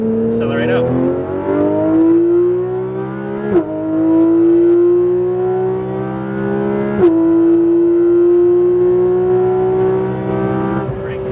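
A Porsche GT3 RS on a track at Speed Vegas accelerates hard and close, its engine note climbing steadily through the gears with brief shift breaks.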